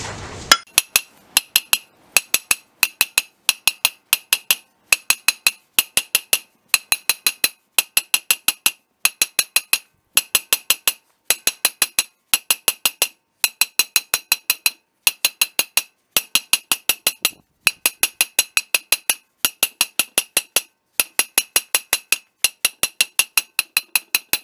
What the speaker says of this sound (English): we're going to take the disc off, we're going to knock it out with my hammer